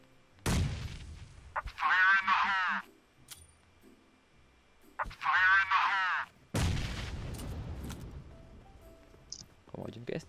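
A grenade explosion and gunfire in the mobile shooter PUBG Mobile, with several sharp, booming bursts spread across the stretch, separated by quieter gaps and short stretches of voiced sound.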